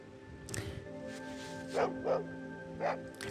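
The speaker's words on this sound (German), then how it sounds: "Oh ja, warte mal, der Hund, ne?" Dog barking in the video game Fallout 2, three sharp barks spaced apart over a steady game background hum, fairly close and clear.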